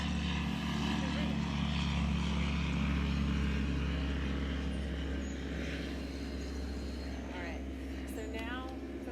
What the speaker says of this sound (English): Breathe in as the plane goes overhead.